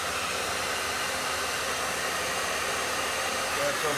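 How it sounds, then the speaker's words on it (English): A hair dryer blows steadily during farm chores on a winter day, an even close-up whoosh of air and motor hum that stays constant from start to finish. "Scary hairdryer."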